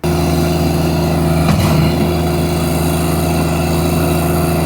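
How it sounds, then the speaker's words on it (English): Tractor engine running steadily near a ramp build site, a loud constant drone with a low hum that stays even throughout, one brief rough bump partway through, no talk. "let's get the tractor ready"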